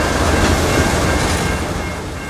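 Freight train K813 of phosphate hopper cars, running as a Bone Valley local in Central Florida, rolls past with a loud, steady, broadband rumble and wheel noise that fills the whole stretch, with no voices.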